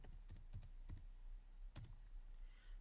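Quiet typing on a computer keyboard while entering a COUNT formula in an Excel cell, with scattered individual key clicks and a couple of quick double taps over a faint hum.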